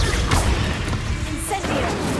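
Spell explosions in Hogwarts Legacy, a few loud smashing blasts and thuds in quick succession with a whoosh near the end, close and punchy.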